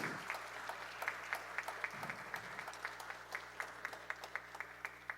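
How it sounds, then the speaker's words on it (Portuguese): A crowd applauds steadily at a formal solemn session of a council, the clapping moderately distant and fairly quiet over a faint low hum, with no one speaking. "Mais uma salva de palmas."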